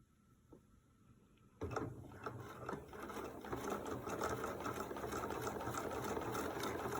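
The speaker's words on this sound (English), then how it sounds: "The machine should automatically stitch across the end, down the side, across the back, and back down to the front and create your buttonhole for you." A sewing machine automatically stitches a buttonhole into fabric, running alone at a steady, busy whir with fast stitching rhythm after a quiet start, fairly close and constant.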